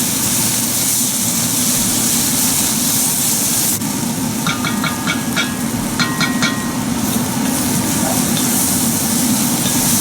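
Ropa vieja cooking in a pan with oregano and bay leaves, a loud steady sizzle and frying hiss throughout, with a few sharp metallic scrapes and clicks of stirring partway through.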